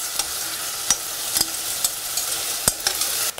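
A steady hiss of onion frying in a pan, with occasional scraping clicks of stirring over the sizzle.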